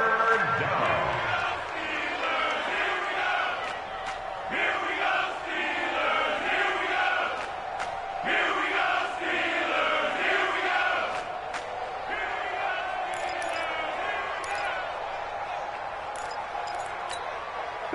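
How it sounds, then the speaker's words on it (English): Crowd noise from an American football video game on PS4 swells steadily throughout as a big third down approaches, a continuous roar of cheering with a commentator talking over it. "the crowd getting into it as we come up on a big 3rd down"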